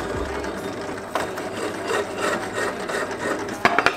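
File rasping a small bevel onto an old kitchen knife, steady close scraping strokes that end in a few quick sharp clicks.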